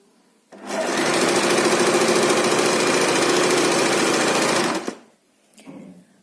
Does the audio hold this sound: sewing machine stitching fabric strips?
yes